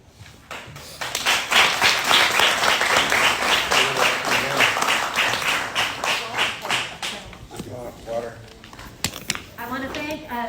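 Audience at a Hawaii Kai community board meeting bursting into applause, distinct rhythmic claps building quickly and thinning out after several seconds, with a speaker's voice coming in as it fades.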